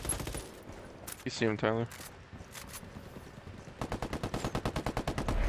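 Rapid bursts of video game gunfire from a hard-recoiling gun, a short volley at the start and a dense rhythmic string of shots near the end, loud and close, with a voice speaking briefly in between.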